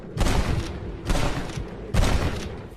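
Gunfire in a Rockstar video game as John Marston shoots, three loud booming bursts of shots with rumbling tails, evenly spaced and close.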